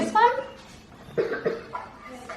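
A young child coughs once or twice close by at a dinner table, with short rough bursts among bits of quiet voices.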